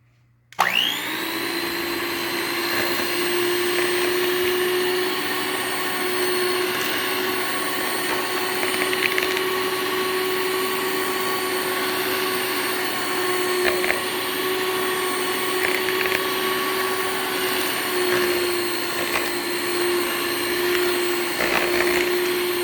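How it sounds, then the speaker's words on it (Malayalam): Electric hand mixer beating sugar into marble cake batter, a steady high whine that starts abruptly and runs continuously, loud and close, with faint scraping knocks from the bowl. "ഇനി നമ്മൾ ഇതിലോട്ട് ഷുഗർ കൂടി ഇട്ടിട്ട് നന്നായിട്ട് ബീറ്റ് ചെയ്യണം."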